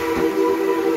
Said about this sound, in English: Oh, love that whistle, huh?